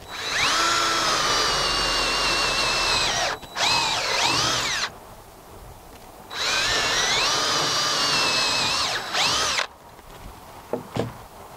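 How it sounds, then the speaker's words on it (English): A power drill with a 3/8 bit whines loudly in two long bursts while drilling mounting bolt holes for a barn door, each a few seconds, with a short pause between and faint clicks trailing off at the end. "Use a 3/8 drill bit to drill your mounting bolt holes."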